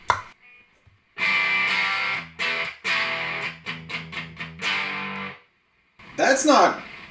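Buzzy, fuzzy electric guitar through a Soviet-made distortion pedal with all knobs at noon, chords and stabs choppy and loud, with a short pause before a burst of harsh noise at the end.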